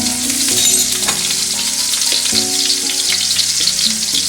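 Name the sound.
garlic frying in a pan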